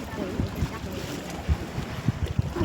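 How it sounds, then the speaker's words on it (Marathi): Strong wind by the sea and a river buffets the microphone in low rumbling gusts, with brief thumps and faint background sounds over a short stretch. "खूप वार आहे समुद्र इथे नदी"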